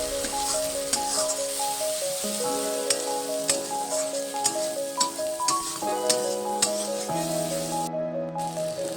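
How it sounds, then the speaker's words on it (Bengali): Turmeric and spices sauté in oil in a frying pan for a home-cooked Bengali dish, giving a steady close sizzle with scraping stirs and light clinks of a spoon against the pan, while music plays throughout. "এটা ভালো মতো কষানো হয়ে গেছে"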